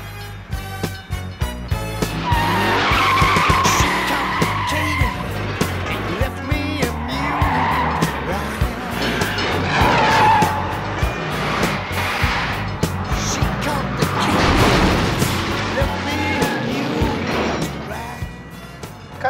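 A car with a 440 cubic inch police engine, police tires and police suspension accelerates hard with a loud, sustained engine roar and long screeching tire skids, close and continuous for the whole stretch.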